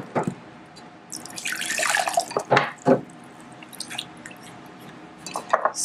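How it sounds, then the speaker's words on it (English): Water is poured into a bottle holding a little baking soda at the bottom, giving splashy, gurgling bursts that swell and fade between brief pauses, close and fairly quiet. "I've got a little bit of baking soda in the bottom of here, so I'm going to pour some more water."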